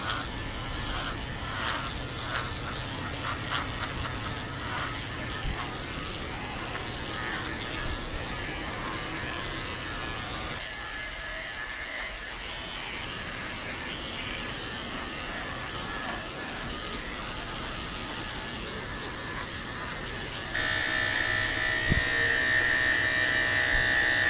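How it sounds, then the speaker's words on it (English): Electric clippers shave the hair from a schnauzer's foot pads during a grooming session, giving a steady close buzzing hum that runs without a break and grows slightly louder near the end. "So I'm shaving the pads of his feet out with a"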